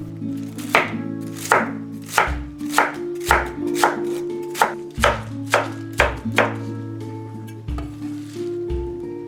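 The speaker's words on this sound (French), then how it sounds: "Je coupe le chou chinois en petits morceaux." A knife chops Chinese cabbage into small pieces on a board, a close run of about a dozen sharp, evenly spaced thuds, with no voices.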